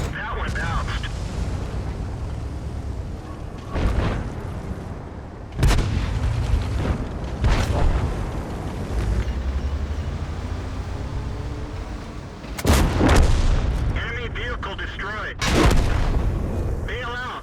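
World of Tanks gameplay battle sounds: heavy tank cannon blasts boom out every few seconds over a constant rumbling, hissing engine and battlefield din, several sharp loud shots breaking through.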